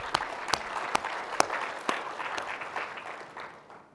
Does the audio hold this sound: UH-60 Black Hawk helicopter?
no